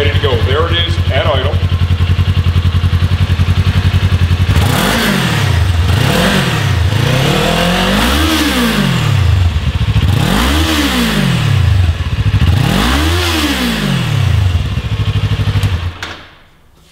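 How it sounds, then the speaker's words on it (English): A warmed-up 2018–2023 Kawasaki Ninja 400 with its stock exhaust, loud and close: a steady idle, then a series of throttle blips that rise and fall in pitch, before the engine cuts off at the end. "Before we begin the exhaust install, let's start with our stock exhaust note."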